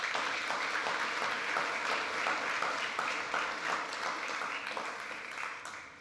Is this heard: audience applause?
yes